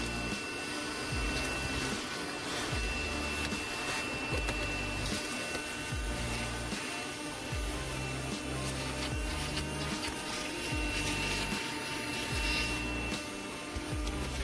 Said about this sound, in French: Et là l'aspirateur donc démarre.